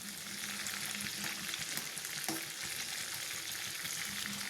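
Vegetable curry with garam masala is stirred in a pan, with a continuous sizzle and frying hiss broken by soft spoon scrapes and stirring knocks.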